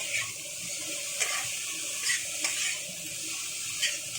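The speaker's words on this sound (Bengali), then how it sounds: "মূলো শাকটা দেওয়ার পরে একটু নাড়াচাড়া করে খুব সুন্দর করে আমি ঢাকা দিয়ে ভেজে নেব" Radish greens are stirred as they fry in a pan, producing a soft, steady sizzle with several brief scraping strokes spaced about a second apart, with no voices present.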